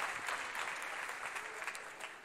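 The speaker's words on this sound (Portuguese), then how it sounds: "aplauda bonito e aplauda forte." A church congregation breaks into steady, dense applause that fills the whole short stretch at a moderate distance, with no voices standing out.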